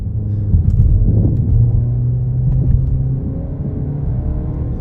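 A Volkswagen Arteon engine pulls hard through the gears, shifted by paddle at about 5,000 RPM. A loud, steady rumbling drone rises and then briefly dips at each upshift, heard from inside the car with no talk.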